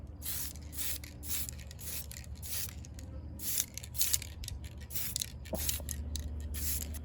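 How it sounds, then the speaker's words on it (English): Repeated short hissing bursts from a spray paint can onto model palm tree leaves, roughly a dozen quick blasts in a steady rhythm, fairly close against a low room hum. "This is a spray paint, and I'm just going to paint the leaves."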